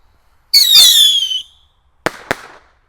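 Small children's fireworks set off close by: a whistling, crackling burst for about a second, then a pause and two sharp pops in quick succession, loud against otherwise quiet surroundings.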